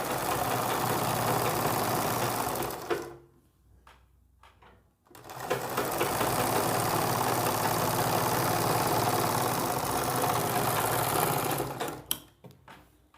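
A sewing machine runs a long, fast stitch along a trouser strip at a half-inch margin, a steady close mechanical whirr that pauses briefly, resumes for several seconds, then stops with a few clicks.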